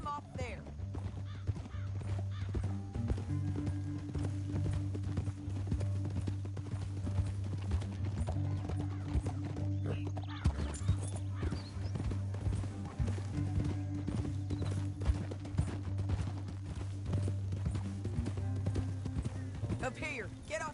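Horse hooves clip-clop steadily in the video game Red Dead Redemption II, a continuous rhythmic trot mixed under a low music bed with speech throughout.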